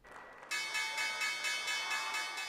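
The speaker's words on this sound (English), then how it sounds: "The opening bell at the New York Stock Exchange" Opening bell ringing at the New York Stock Exchange, a sustained bright electric ringing that starts abruptly and pulses steadily at a fast rhythm, moderately loud and heard alone.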